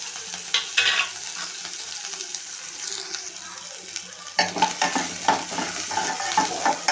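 Mustard seeds, urad dal, fennel and chopped onion go into a hot pan, and a spatula scrapes and clatters as they fry under a low sizzle. The stirring grows louder and more rhythmic when the onion is added.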